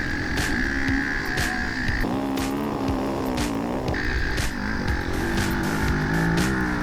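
Engines roar in a drag race, their pitch climbing and dropping through repeated gear shifts in a loud, continuous, close run.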